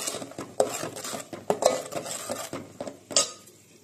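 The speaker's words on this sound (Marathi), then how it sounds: "दोन मिनिटं चांगलं भाजून तेलात परतून घेऊया." Kolhapuri masala being stirred and roasted in oil in a pan, with irregular close scraping and clinks of a utensil against the metal and a light sizzle beneath, no talking.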